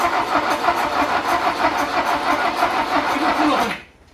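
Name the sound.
Lada Riva car engine starting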